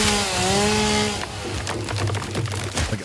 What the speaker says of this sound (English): I'm not opposed to the chainsaw sound.